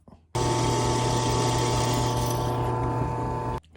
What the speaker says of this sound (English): Now I've got 3 divots and I'm going to drill them out.